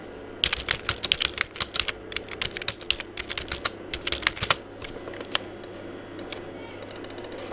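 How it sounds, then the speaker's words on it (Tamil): Rapid typing on a computer keyboard, a dense run of crisp clicking keystrokes that bunches into bursts and then thins into scattered taps, close up over a faint steady hum. "இப்போ பார்த்தீங்கன்னா நம்ம ஒரு 5 இடத்துல வந்து COAன்னு டைப் பண்ணி வச்சுருக்கோம்"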